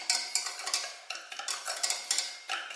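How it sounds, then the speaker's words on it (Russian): Dry sugar and cornstarch stirred briskly in a saucepan for raspberry curd, giving a steady run of close, scraping and rasping strokes with no voices. "Соединяем сахар с крахмалом в сотейнике и хорошенько вымешиваем"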